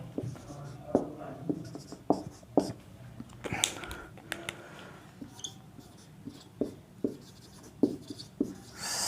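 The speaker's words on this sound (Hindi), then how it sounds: "उसके बाद में इधर लिख दे रहे हैं हम" A teacher's marker or chalk on a classroom board gives irregular taps and scratchy strokes close by, with faint speech in the background.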